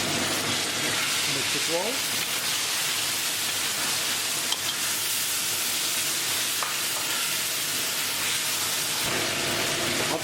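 Tomatoes hit a pan of green chili tadka and set off a steady, loud sizzle of frying that holds for the whole stretch. A voice speaks briefly over the hiss.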